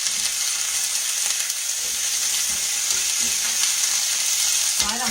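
Squash and red peppers stir fry in a pan, a loud, steady close sizzle with light crackling and occasional stirring scrapes, ending on a brief clatter.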